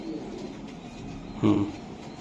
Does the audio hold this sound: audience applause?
no